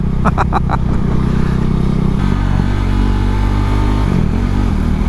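A Husqvarna Svartpilen 401 motorcycle is ridden through Scotland, its engine droning steadily and loudly throughout with a brief shift in pitch partway, heard close up from the rider's position with wind noise and no talking.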